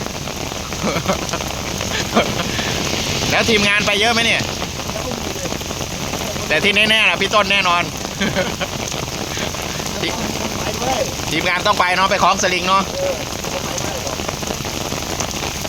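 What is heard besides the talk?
heavy rain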